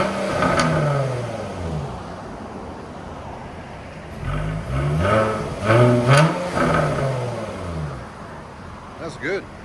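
A 2017 Jaguar F-Type S with a 3.0-litre supercharged V6, X-pipe and resonator delete revs up repeatedly, loud rising and falling exhaust blips close by, several short bursts separated by brief pauses, with a voice speaking in between.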